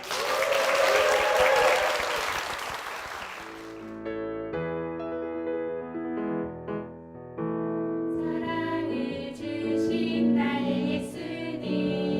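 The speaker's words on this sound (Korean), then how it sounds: "귀한 간증 들려주신 권사님 응원의 박수 부탁드립니다." A church congregation at Pyeongtaek Seonggok Church claps warmly for a few seconds after a testimony, then the applause fades out as music begins.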